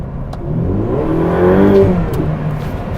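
A Ferrari 488 Pista goes to full throttle in third gear from 3,000 RPM on a track, the engine note swelling quickly into a loud, rising howl before easing off, close and alone without talk.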